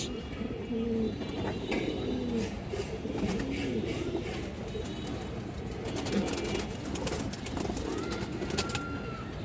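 Pigeons coo in repeated soft, low rolling calls through steady background noise at a loft selling silver, kaldom, baagha and red khaki birds, with occasional chirps and faint talk in the background.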